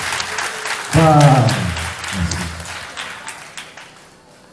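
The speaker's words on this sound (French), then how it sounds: "Applaudissez là-bas" Audience at a school excellence-prize ceremony for a modern college applauding, broad clapping that swells for a moment and then fades under someone speaking over a microphone.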